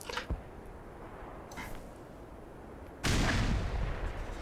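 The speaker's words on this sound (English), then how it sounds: "I know I can throw a grenade up there and pre-cook it a little bit, so it blows up right where I want it." Grenade blowing up in the video game Black Mesa: a sudden loud blast that lingers as a rumbling roar, after a couple of quieter thuds.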